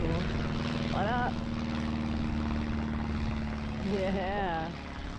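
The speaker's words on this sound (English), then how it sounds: "Yeah, now that's a cool plane." A yellow propeller plane passes overhead near a lake, a steady engine drone throughout, with voices talking and a whistled or warbling call heard twice over it.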